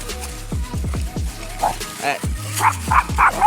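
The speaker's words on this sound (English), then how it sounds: "no barking" Several sharp dog barks in quick succession, fairly close, with a few higher yips later on.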